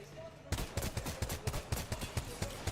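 Rapid bursts of automatic gunfire in an Apex Legends match during an ALGS Year 4 Split 2 playoff bracket game, steady rhythmic shots starting abruptly and repeating for over two seconds, loud and close.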